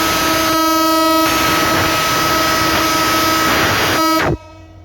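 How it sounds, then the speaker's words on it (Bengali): Silk City Express, the Rajshahi to Dhaka train, departing line 1 at Chatmohar railway station, sounding a loud sustained horn blast over rumbling train noise before cutting off abruptly. "সিল্ক সিটি এক্সপ্রেস এই মুহূর্তে চাটমোহর রেলওয়ে স্টেশনে 1 নম্বর লাইন থেকে ঢাকা অভিমুখে ছেড়ে যাচ্ছে"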